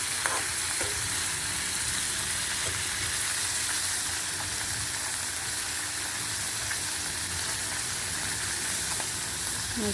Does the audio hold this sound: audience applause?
no